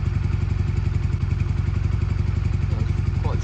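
A Honda CM125 motorcycle engine idles with a steady, loud, rhythmic chugging and mechanical clatter, running evenly throughout without revving.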